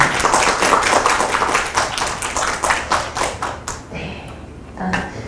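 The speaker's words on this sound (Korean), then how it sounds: "탐험가님께 다시 한번 큰 박수 부탁드립니다" Audience applause after a science career-mentoring talk, dense clapping that fills the room for about four seconds, then thins out and fades into quiet.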